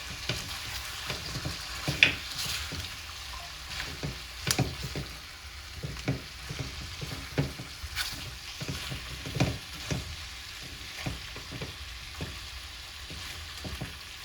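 Cow foot and chicken foot meat sizzles steadily as it fries in a pot, with repeated scraping and stirring clicks as the pieces are turned, close and fairly loud.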